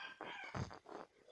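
A short, strained rooster crow with a rising then wavering call, fairly close and alone.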